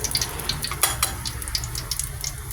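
Sauce sautéing in hot oil for a chicken dish, a close crackling sizzle with bursts of sharp spattering pops and light stirring, no talking.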